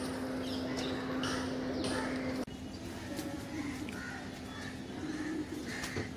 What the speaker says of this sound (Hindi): ये है टैडी कबूतर अपनी असल हालत में